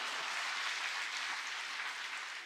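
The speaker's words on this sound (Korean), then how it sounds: "박수 치려면 크게 치세요" Steady, dense clapping from a congregation fills a church revival service held at dawn. It stays loud and even throughout with no voices on top.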